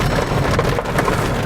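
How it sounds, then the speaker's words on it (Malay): Heavy rain pours steadily on a street in Kuala Lumpur, a dense, continuous hiss with a deep rumbling low end, loud and close throughout with no voices. "ni hujan kan, bukannya jalan kering."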